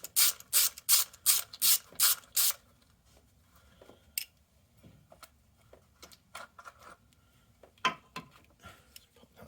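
On a 1994 Jaguar XJS V12, a ratchet wrench works a bolt loose with a run of eight quick, close rasping clicks, then scattered taps and clinks of tools and parts follow.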